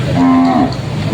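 A water buffalo (carabao) moos once at a livestock auction market, a short, loud, close, low bellow with no voices over it.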